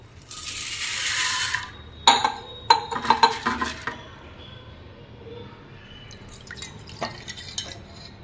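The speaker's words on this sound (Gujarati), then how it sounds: "એને એક પાણીએ ધોઈ નાખીએ" Sago pearls are rinsed in water, giving faint sloshing, a few light drips and sharp clinks against the bowl, spread irregularly across a quiet kitchen.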